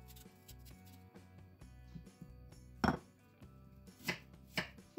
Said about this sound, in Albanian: I presim në pjesë të vogla dhe me njërë do t'i vendosim në tenxheren me uj